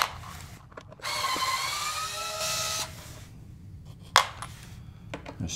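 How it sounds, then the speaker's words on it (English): Power screwdriver backing wood screws out of the bottom of a B&W 802 loudspeaker cabinet, a whirring burst of about two seconds, a few clicks and a sharp knock afterward, close and moderately loud. "So let's get going here and start removing these screws."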